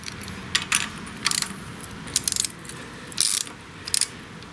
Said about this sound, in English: you can turn the torque screw quite easily with the Torx bit